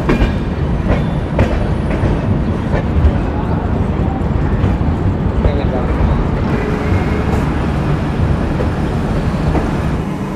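The Shipra Express rolls into Bardhaman station with a loud, steady rumble and rhythmic clatter of wheels over rail joints, a touch of squeal, and faint voices in the background.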